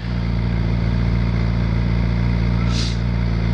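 A motorcycle engine with a silencer fitted idles loudly and steadily up close, a constant deep throbbing drone from its exhaust.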